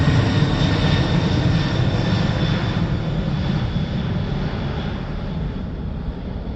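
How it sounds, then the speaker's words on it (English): Large military aeroplane passing overhead in open countryside beside a river valley, a loud steady broadband engine roar that stays strong throughout and fades slightly toward the end, with no voices. "Here comes an aeroplane, and they're big, they're military ones"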